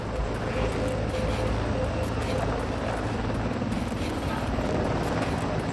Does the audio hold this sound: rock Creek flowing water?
no